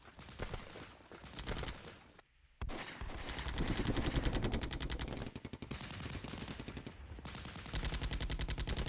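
Rapid autocannon bursts in the Cold War video game Flashpoint Campaigns, dense rattling fire with brief pauses, loud and continuous under a synthetic game mix.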